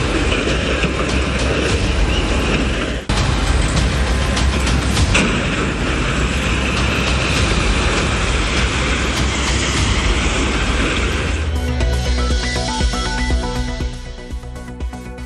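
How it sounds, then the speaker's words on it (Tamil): A freight train rumbles and clatters loudly as it collides with a standing train in Jharkhand and cars derail, a continuous heavy roar with a sharp break near the start, easing into grinding metallic squeals toward the end. "ஜார்க்கண்டில் நின்று கொண்டிருந்த ரயில் மீது மோதிய மற்றொரு சரக்கு ரயில்"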